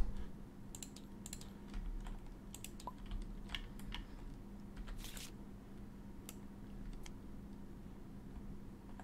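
Board game cards for Monster Hunter World are handled close by: soft, irregular clicks, flicks and rustles as cards are picked up and sorted on a table, with steady low background hum.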